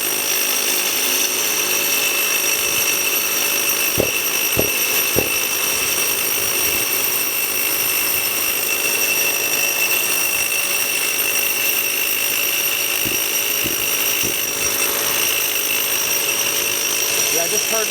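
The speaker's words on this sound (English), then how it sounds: "You really have to stay on it because these drills punch holes pretty fast." Two Hilti TE60 rotary hammer drills boring with 28-inch hollow bits make a loud, unbroken hammering drone for the whole stretch, with a few brief knocks and clicks rising above it.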